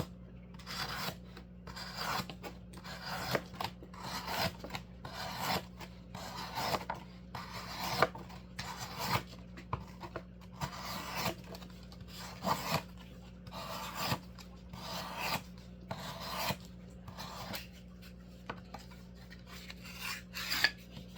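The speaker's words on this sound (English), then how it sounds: "I'm just gonna cut and mark." A Spyderco Para 3 knife with a MagnaCut steel blade saws through cardboard in a long run of rapid rasping strokes, each scrape short and gritty, close up with no talking.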